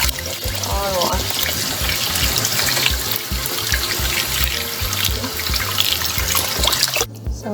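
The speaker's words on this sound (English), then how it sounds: "So I just wash the ackee in the running water" Tap water runs continuously while ackee is washed under it for a Jamaican ackee and saltfish dish, splashing and gurgling close by before stopping suddenly near the end.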